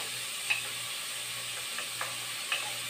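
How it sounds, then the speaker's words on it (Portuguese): Onion and bell pepper frying in a pan with bacon, giving a steady sizzling hiss throughout with a few soft stirring clicks. "Fritei o bacon, agora vou colocar cebola e pimentão"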